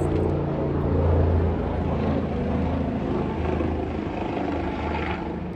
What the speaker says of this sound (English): so we're gonna let the helicopter pass.